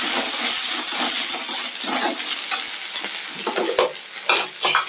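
A pan of moong dal and spinach with dry chillies is stirred, a steady sizzle under repeated scraping strokes of the spoon, close and fairly loud, with no talking.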